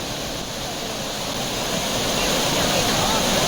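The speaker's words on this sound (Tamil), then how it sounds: "குற்றாலத்தில் உள்ள அனைத்து அருவிகளிலும் வெள்ளப்பெருக்கு ஏற்பட்டுள்ளது" Courtallam waterfall in flood roars as a dense, steady rush of water that is loud and unbroken throughout and swells slightly toward the end.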